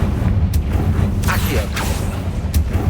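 Hogwarts Legacy's fiery Confringo spell explodes as a few sharp bursts and booms over a steady low rumble of game ambience.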